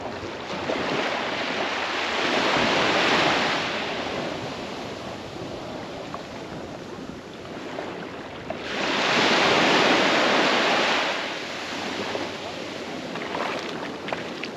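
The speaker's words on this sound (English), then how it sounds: "let's have a look at the beach rather than hear me waffle on" Surf on Jolly Beach, Antigua, rolls in two broad swells around three and ten seconds, each wave building to a loud wash and then fading into a steady roar mixed with wind rumble on the microphone.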